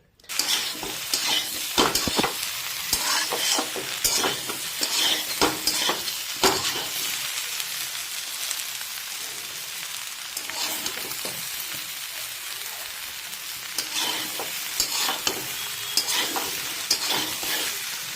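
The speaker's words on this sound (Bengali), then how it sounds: "সেহেতু এটা আমাদের হাফ ফ্রাই করতে হবে" Potatoes half-frying in a pan for a dry potato sabji, a steady sizzle broken by repeated scraping and stirring clatters, close and continuous without talk.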